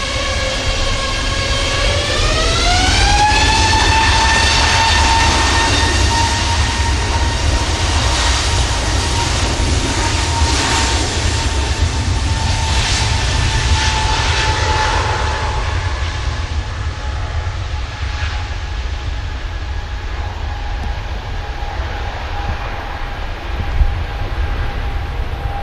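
An Aer Lingus airliner at Manchester Airport roars past with a loud, sustained jet rumble and rising engine whine that slowly fades into the distance.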